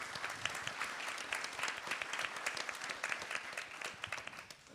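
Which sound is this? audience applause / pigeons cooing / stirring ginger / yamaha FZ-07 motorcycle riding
audience applause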